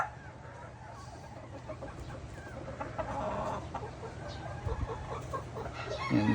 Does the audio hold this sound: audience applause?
no